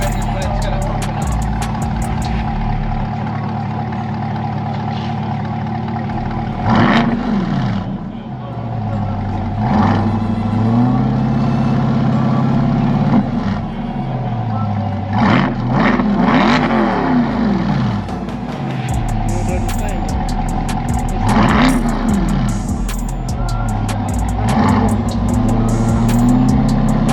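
A Corvette sports car's exhaust revs loudly and close by at a car meet, its deep roar rising and falling in repeated bursts.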